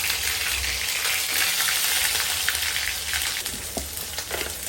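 Cumin, garlic paste and onion frying in hot mustard oil, a steady dense sizzle with soft crackling throughout, loud and close, with no talking.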